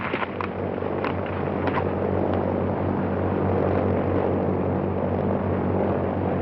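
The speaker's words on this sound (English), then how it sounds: "Airplane!" A propeller airplane drones loudly and steadily overhead in an old 1935 film soundtrack, a continuous low engine roar with no voices over it.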